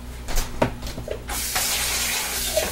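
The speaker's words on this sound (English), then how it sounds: "let's give this a rinse." Rainbow sherbet cake soap being rinsed under a running tap, a few thuds and handling sounds first, then a steady rush of water splashing close by.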